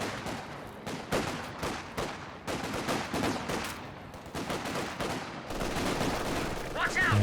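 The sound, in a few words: Vickers machine gun fire in the video game Company of Heroes 2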